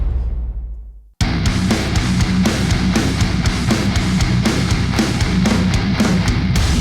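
Breakdown drop samples from producer Eric Monsonis: a booming low impact decays into silence, then a dense, loud heavy-metal breakdown bursts in with pounding drums and distorted guitars for the rest, without speech.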